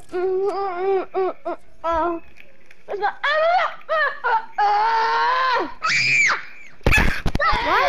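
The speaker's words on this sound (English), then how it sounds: "What the hell are you screaming so loud?" A person screams loudly in a series of shrill, rising bursts, some drawn out and others short, close up with brief gaps and a few laughing or wailing tones mixed in.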